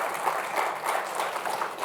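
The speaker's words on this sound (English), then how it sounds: "Round of applause." Audience applause welcoming panelists onto the stage at a marketing panel event, a steady wash of clapping from a crowd, moderately loud and continuous with no speech.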